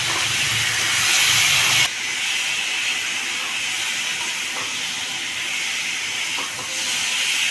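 Salted spices sizzling and hissing steadily in a hot pan for a pumpkin-greens fish curry, loud and close, with a brighter burst in the first two seconds before settling into an even fry.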